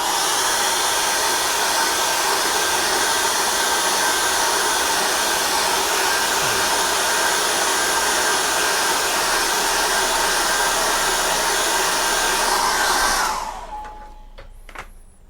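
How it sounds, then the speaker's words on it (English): A hair dryer blows with a loud, steady whir for several seconds, then shuts off and winds down to near silence. "you can just get a hairdryer, and today I have switched it on and we're going to dry that off"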